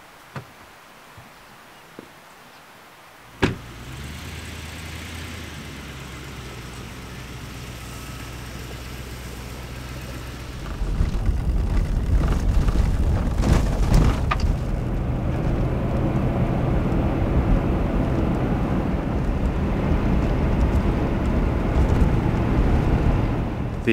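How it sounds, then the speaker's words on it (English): A Toyota Land Cruiser starts with a door thump and a low idle, then pulls away and drives on a road toward town, the engine and road rumble growing steadier and louder. "let's get in the car, in the Land Cruiser, and drive on"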